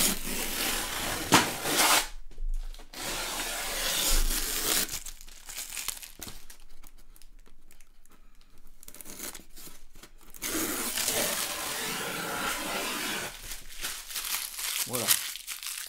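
A heavy cardboard box, about 10 kg and holding a resin statue, slit open with a small box cutter, giving bursts of scraping, tearing and crinkling with pauses and handling noises, close and moderately loud.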